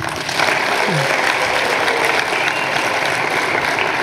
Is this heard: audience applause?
yes